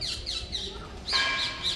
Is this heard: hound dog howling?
no